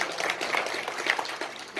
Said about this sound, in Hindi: जोरदार तालियों से हमारे अध्यक्ष जी के लिए स्वागत करेंगे